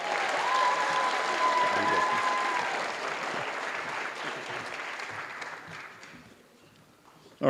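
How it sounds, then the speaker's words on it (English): An audience at a respiratory therapy class pinning ceremony claps in a full, sustained round of applause that gradually thins and fades out, with a sudden loud noise at the very end. "let's give them all one more round of applause"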